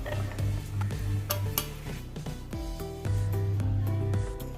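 Chopped carrot pieces clatter and clink into a blender jar, a run of quick, close hard knocks and rattles with short gaps, fairly quiet.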